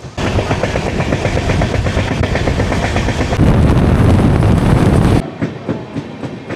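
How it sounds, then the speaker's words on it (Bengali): The Black Diamond Express rolls into Waria halt with loud, steady clickety-clack of wheels over rail joints and heavy rumbling, cutting off abruptly to quieter station ambience near the end. "আমাদের এই ট্রেন ব্ল্যাক ডায়মন্ড এক্সপ্রেস তার 7 নম্বর হল্ট ওয়ারিয়াতে এসে পৌঁছালো।"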